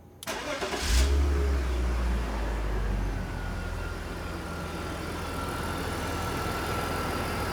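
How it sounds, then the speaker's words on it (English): A 2004 BMW 325Ci with an oxygen sensor fault cranks and fires, revs up briefly, then settles into a smooth, steady idle, heard up close with no talking. "So I'm going to start this thing up now."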